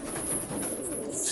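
Racing pigeons coo softly inside their loft, a few close, low murmuring calls against a steady background hiss.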